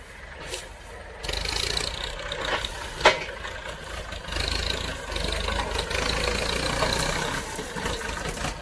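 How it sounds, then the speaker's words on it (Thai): Walking tractor working on field bunds in farmland, its engine running steadily at a rough low idle close by, with a brief sharp knock partway through and no talk. "เราใช้เครื่องจักรเป็นรถไถนะครับ ก็ สะดวกสบายนะครับไม่ต้องใช้ แรงงานคน"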